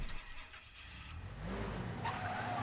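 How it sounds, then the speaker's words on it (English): A pickup truck engine in a video game starts with a rumble and climbs into a rising rev, loud and close, with no talk over it. "that truck's gonna be so loud."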